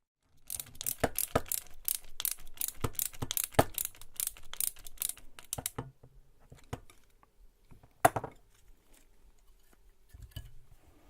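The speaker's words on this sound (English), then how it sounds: "Just holding the top of the motor and tightening the nuts down until they're snug." Rapid ratcheting clicks from tightening the prop nuts on the motors of an Eachine Wizard X220 drone, a dense burst of close, sharp clicks for several seconds, then a few scattered single clicks and clacks.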